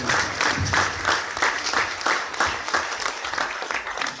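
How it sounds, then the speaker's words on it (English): An audience applauds the contestants at a live restaurant judging event, with loud rhythmic clapping rising and falling in waves throughout, close and continuous. "we have to applaud all the 12 contestants in restaurants that actually"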